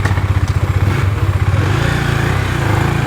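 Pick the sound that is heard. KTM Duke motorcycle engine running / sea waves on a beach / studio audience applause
KTM Duke motorcycle engine running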